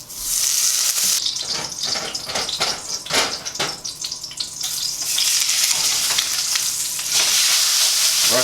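Ribeye steak sears in clarified butter in a hot pan, a loud, dense sizzle and crackle that dips briefly while the meat settles, then swells back to a steady roar.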